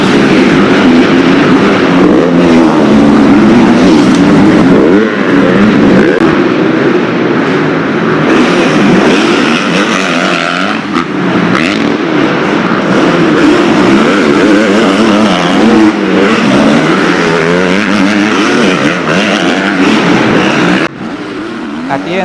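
Motocross bikes racing at the 2019 Irish Motocross National Championship round at Vernon Mount, a loud, constant blare of engines revving and droning past with shifting pitch, and a voice talking over the roar.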